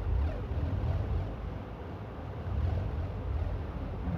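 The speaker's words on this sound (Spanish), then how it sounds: "Nuestro tractor." A tractor in Minecraft Farmcraft 2 drives along with a continuous low, rumbling engine drone that swells and eases slightly throughout, with no talk over it.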